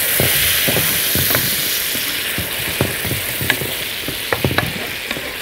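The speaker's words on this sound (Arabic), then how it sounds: "واحط على طول هنا الطماطم المبشورة" Grated tomatoes sizzle steadily in a hot pan, a continuous frying hiss broken by scattered clicks and scrapes of stirring, close and fairly loud with no voices.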